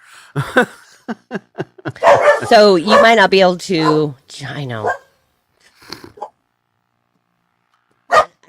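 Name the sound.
dogs barking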